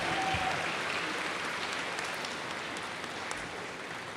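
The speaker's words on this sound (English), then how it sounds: "let's give them a nice round of applause and thank you" Audience applause at an 8th grade promotion ceremony, a steady sustained clapping from a crowd that tapers slightly toward the end, with no speech over it.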